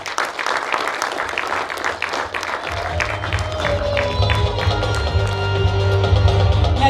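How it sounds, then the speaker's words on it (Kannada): Loud audience applause at a film pre-release event, broadband clapping that swells and grows stronger toward the end, with a low hum and some sharper claps mixed in. "ಜೋರಾದ ಚಪ್ಪಾಳೆಯೊಂದಿಗೆ"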